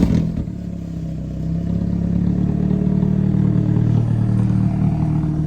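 An older Toyota Corolla AE86 GTS with a swapped engine cranks and catches, then settles into a loud, steady, rumbling idle with a slight clattery edge, recorded up close with no talking.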